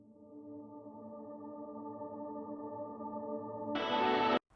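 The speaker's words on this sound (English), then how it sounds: "accompanied by my pad that's fading in at the same time" A sustained synth pad fades in under a quiet guitar chord in a worship-style intro, slowly swelling before a brighter burst near the end cuts off abruptly.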